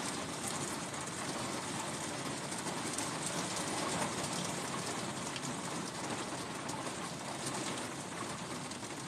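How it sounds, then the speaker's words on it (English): Rain falls in a steady, dense hiss, unbroken and even throughout, with no voices over it. "The sound of the rain actually helps to reboot your mind as well."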